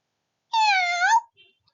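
Human voice imitating a cat's meow in a kindergarten lesson, a single drawn-out, rising-and-falling meow, close and clear, followed by a brief soft sound.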